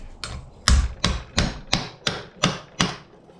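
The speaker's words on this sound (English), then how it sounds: "Grab my cross peen. Make this trough just a little bit deeper." Cross peen hammer blows deepening a trough in metal stock for a grease lamp, a steady series of about seven sharp, ringing strikes at an even rhythm, close and loud with no talking.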